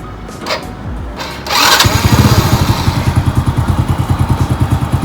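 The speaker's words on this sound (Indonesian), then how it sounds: "kita coba nyalain motornya ya" A Honda Astrea Grand motorcycle is started with a short cranking burst, and the engine catches and settles into a steady, rhythmic putter at idle, loud and close by.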